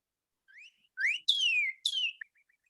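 Bird song played back from a phone bird app: a few clear whistled phrases with rising and falling chirps, fairly faint and heard alone in otherwise quiet surroundings.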